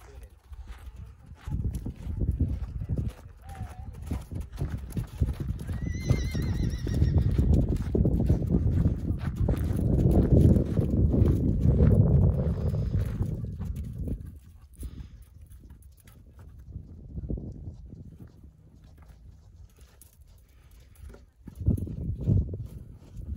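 Horse hooves clip-clop at a Corsican equestrian TREC trail riding event, steady and fairly close, with talk in French throughout and background noise from the riding ground.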